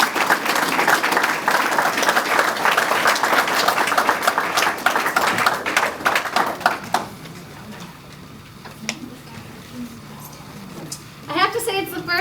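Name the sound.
audience applause for Madison Grimm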